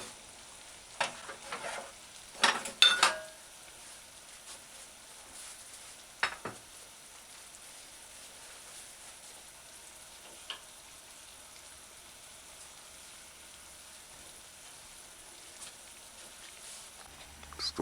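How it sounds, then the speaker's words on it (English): Fish and sweet pepper stir fry with onion and paprika sizzling quietly in oil on a low flame, a soft steady crackle broken by a few sharper pops and utensil clatters near the start. "You just want this to saute and flavor the oil."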